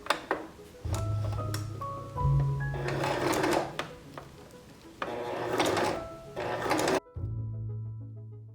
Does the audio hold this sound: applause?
no